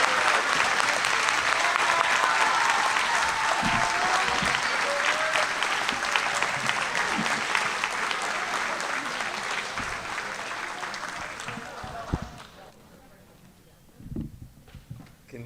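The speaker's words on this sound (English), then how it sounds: "Big round of applause for everybody" Audience applause at an 8th grade promotion ceremony, a dense sustained roar of clapping that gradually thins and fades out near the end, leaving a few scattered claps and faint voices.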